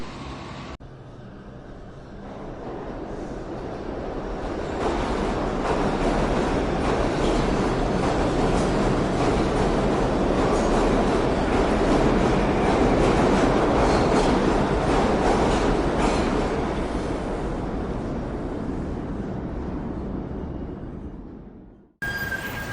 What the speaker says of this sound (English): we're actually going to take the subway into the city